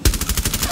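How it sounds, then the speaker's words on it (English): Rapid gunfire in the Rainbow Six Siege video game, a close, steady burst of repeated shots filling the whole short moment. "there's someone shooting all the way through at the bottom of the ladder that leads to the meeting hall"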